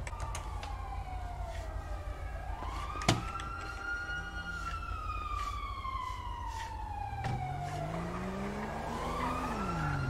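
Ambulance siren wailing in GTA 5 roleplay, rising and falling sweeps over loud car engine and road noise, with a sharp bump and tire screech; continuous, close and loud, no talking.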